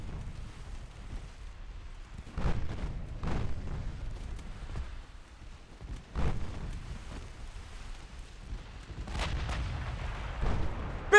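Warship naval guns fire in the game Ultimate Admiral Dreadnoughts, heavy booms landing at irregular intervals, a few sharp close blasts over a low rumbling sea-battle background, with no speech.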